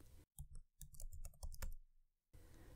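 Fingers typing on a computer keyboard while code is entered, a quick close run of crisp key clicks lasting about two seconds between stretches of quiet background.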